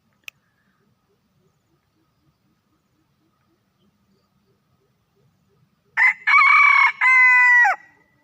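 An 11-month-old red-eared decoy rooster crows once, loud and close, a segmented call lasting about two seconds after near silence broken by a faint click.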